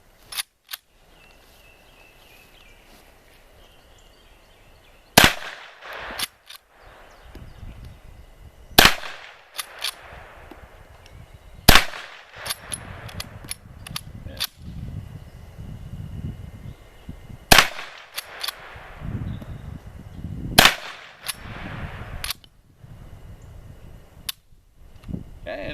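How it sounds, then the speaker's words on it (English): A Taurus C-45S rifle in .45 Colt fires five sharp, loud shots spaced several seconds apart, each a hard crack with a short ringing tail, and no voices in between. "I'm going to crank off about 5 rounds and show you how it shoots."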